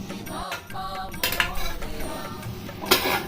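A utensil scrapes and clinks against a hot pan while coconut dust is stirred in ghee, giving several uneven metallic taps and scrapes close by.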